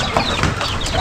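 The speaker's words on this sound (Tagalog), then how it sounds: "ang pangalan kasi niya, yung manok namin ay si Gunggong yan." A chicken clucking briefly amid a dense, noisy background.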